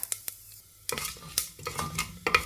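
Mustard seeds, urad dal and dried chillies fry in a pan for a Kerala churakka parippu curry, with close, irregular sizzling crackles and a few sharp spoon-on-pan clatters, no voices.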